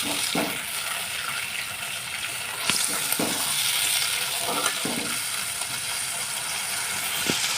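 Spice paste with a little water added bubbling and frying in oil for a rohu fish head curry, a soft continuous sizzle broken by a few scraping stirs, close but moderately quiet, no voices.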